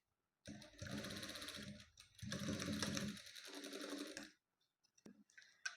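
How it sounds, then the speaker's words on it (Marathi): A sewing machine stitches fabric for a decorative tassel, running loud and close in two steady bursts of rapid mechanical whirring. A short pause separates the bursts, and faint clicks and handling sounds follow. "इथून आपल्याला शिवून घ्यायचे"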